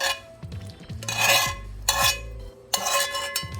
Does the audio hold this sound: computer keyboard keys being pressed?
no